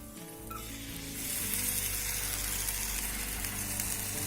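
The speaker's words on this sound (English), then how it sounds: "so you can hear the sizzling now, right?" Spices sizzle in hot oil for a tadka with a steady, crackling hiss that grows louder after the first second and then continues evenly.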